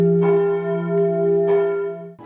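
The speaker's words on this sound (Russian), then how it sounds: "Колокол мира посылает ясный сигнал." A Peace Bell rings at a college Day of Peace ceremony in Brest, with sustained resonant tones, a second strike around midway, and a humming decay.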